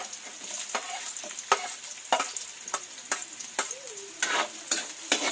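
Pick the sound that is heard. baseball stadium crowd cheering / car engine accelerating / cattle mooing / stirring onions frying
stirring onions frying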